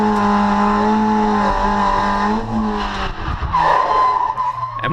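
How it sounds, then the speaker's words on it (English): A race car spins out on a track after a clutch kick mid-corner, the engine revving loudly as the tires screech into a long skid and the noise breaks up into scrubbing and grinding. "with that extra clutch kick came a little bit more inertia than expected, and unfortunately we did spin"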